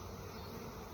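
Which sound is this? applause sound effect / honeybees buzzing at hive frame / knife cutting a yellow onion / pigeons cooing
honeybees buzzing at hive frame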